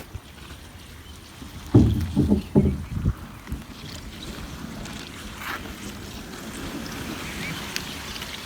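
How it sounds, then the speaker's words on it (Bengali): A small boat rowed through a wetland in Chalan Beel where water lilies are picked, with several close, loud paddle splashes early on, then softer water sloshing and faint wind. "ওই জন্য আমি নৌকা চালালাম কিছুক্ষণ"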